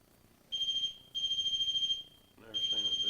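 A ghost-hunting meter emits loud, steady electronic beeping during a night investigation at the old Hamilton County Jail in Jasper, Florida, with three sustained tones separated by short gaps and a voice under the last one.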